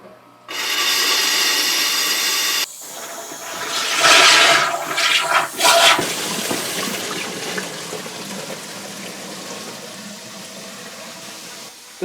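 Air is forced through the water lines of an off-grid cabin fed by a 20-gallon tank: a loud steady hiss, then rushing, gurgling bursts of air and water that fade into a softer ongoing flow.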